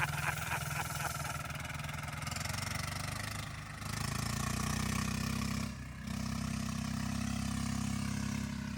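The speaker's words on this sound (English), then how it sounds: "James's brand new tractor against Caleb's jury rig tractor." A 10HP diesel engine on a jury-rigged tractor drones steadily and loudly during a race, its low rumble holding nearly constant with brief dips, no voices over it.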